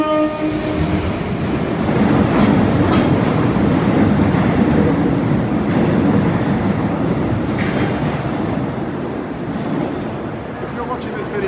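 A Melbourne metro train rumbles loudly through an enclosed underground tunnel, with a steady roar of wheels and faint rhythmic clatter over the whole stretch.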